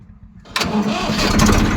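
A tractor engine cranks and catches on a farm, quiet at first and then bursting into a loud, steady idle that rumbles on to the end.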